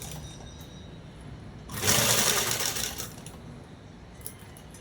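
A sewing machine stitches a long frock dress made from a saree. Its fast mechanical whirr runs for about a second and a half in the middle of a quiet room and then stops.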